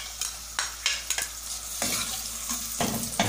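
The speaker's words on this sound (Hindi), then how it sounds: "उसमें मैं प्याज डाल रही हूँ।" Onion dropped into hot oil for achari moong dal, a close sizzling hiss broken by repeated scrapes and clinks of the stirring spoon, loud and busy with no talking.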